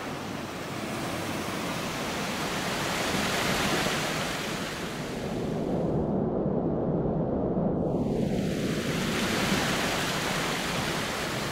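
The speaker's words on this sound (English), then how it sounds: "The waterfalls are really beautiful up here." Waterfall in West Virginia, a steady, loud rushing roar of falling water that continues unbroken throughout, with no voices.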